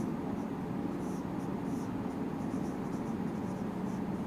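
Marker or chalk writing on a board during a classroom math lesson: continuous soft scratchy strokes, fairly close and steady, with faint squeaks now and then and no one talking.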